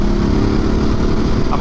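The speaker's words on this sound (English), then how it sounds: "The wind buffeting, I'm feeling the wind." Wind buffeting against a full helmet while riding an adventure motorcycle at about 60, a steady loud low roar of turbulence and engine rumble with no break.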